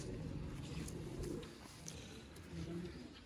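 Sialkoti pigeons coo softly in a loft, low murmuring calls repeating in short bursts over a faint background hum, with a voice faintly present.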